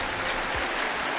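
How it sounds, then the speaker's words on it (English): Dense, steady applause from an audience filling a hall at a Russian security gathering, loud and continuous for a brief moment before cutting off abruptly. "Give them a round of applause."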